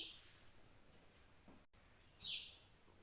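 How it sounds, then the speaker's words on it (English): A single bird sings outdoors in two short, high chirping bursts, one at the start and a louder one near the end, with quiet background between them and no talk. "That bird is so loud. You hear that bird?"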